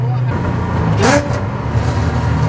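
A modified Ford Mustang engine revs and accelerates in second gear, a loud close rising roar with a brief sharp sweep as it pulls up through the revs, then settling back to a throaty idle-like rumble.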